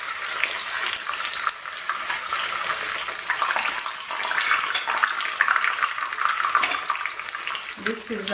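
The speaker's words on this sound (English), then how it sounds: "So now what I'm going to do is I'm going to turn the fish." Coconut fish frying in a pan, giving a steady, loud hiss and crackle of hot oil throughout, with a brief lower clatter near the end.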